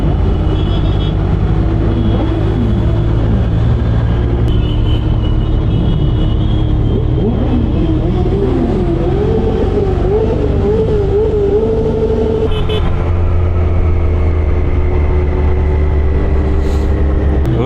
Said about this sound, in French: il y a des motos à perte de vue.